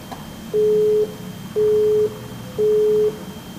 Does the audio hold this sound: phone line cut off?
yes